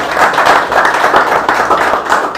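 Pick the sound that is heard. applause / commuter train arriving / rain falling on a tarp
applause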